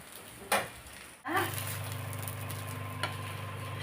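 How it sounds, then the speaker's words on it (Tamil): Green gram dosa frying in plenty of oil on a pan, a steady low sizzle after a scrape and a clatter, with another light knock later on. "இன்னொரு சைடு கொஞ்சம் நம்ம எண்ணெய் ஊற்றிக்கிடுவோம் இது கொஞ்சம் எண்ணெய் அதிகமாக தான் இருக்கும் நல்லா வேகட்டும்"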